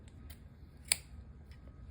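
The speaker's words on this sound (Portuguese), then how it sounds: "vamos cortar esse fio" A single quiet snip of scissors cutting crochet yarn, one sharp click in the middle of a soft, near-silent room.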